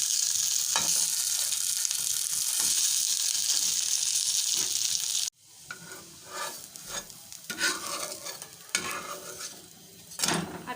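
Rice paratha (chawal ka paratha) sizzles on an oil-greased pan with a loud, steady hiss, then briefly drops off as it is flipped and returns as uneven crackling and popping.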